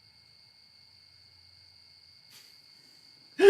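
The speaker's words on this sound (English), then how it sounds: "Can you guys hear those crickets? They're so loud." Crickets sing in a continuous, high, steady trill that runs evenly in the background, faint but constant, until a sudden loud nearby bump cuts in at the end.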